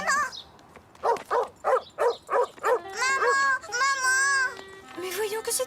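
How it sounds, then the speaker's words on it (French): An angry dog in a cartoon gives a run of about seven quick rhythmic barks, then a long whining, howling call and more yelps, up close. "Le chien avait l'air d'être en colère."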